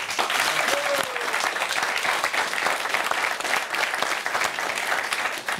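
Dense, loud applause from an audience greeting a young Italian music group, a continuous crowd of clapping hands that stays level from start to finish.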